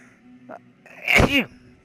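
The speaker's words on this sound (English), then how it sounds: "I'm gonna sneeze." A person lets out a single sharp sneeze, close and sudden, after a brief intake of breath.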